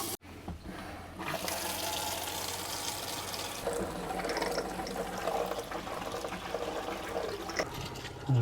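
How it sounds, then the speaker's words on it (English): Several water taps run at once in a motorhome, fed by the onboard fresh water pump, giving a steady, loud rushing and splashing that fills the scene almost without pause. "let's run all the taps until we run out."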